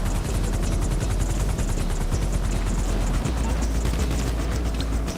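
A helicopter in GTA Online, a loud close rotor thumping in fast even pulses over a dense engine roar, continuous throughout the clip.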